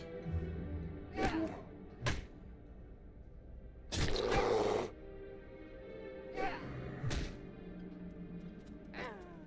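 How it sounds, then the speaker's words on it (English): Someone snores in a Phasmophobia game stream, faint rough rasping breaths recurring at intervals of a few seconds, with one longer louder snort in the middle against a quiet background. "You guys hear him snore?"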